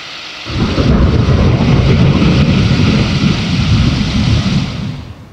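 A synthesized storm sound effect from a Korg Nautilus keyboard, a dense continuous roar of thunder and heavy rain that swells in after a soft start and holds loud before easing off.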